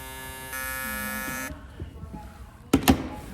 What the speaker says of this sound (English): Vector motor in that clipper.